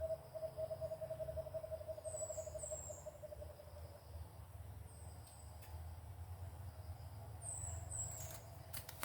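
A faint bird call trills steadily for a few seconds over low, constant background rumble, with a few soft high chirps later.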